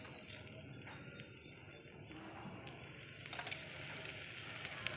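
Ragi flour roti fries in oil on a pan, giving a faint, steady hiss that grows slightly louder toward the end, with occasional light clicks.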